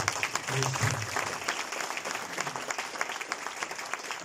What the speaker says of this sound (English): A big round of applause for all.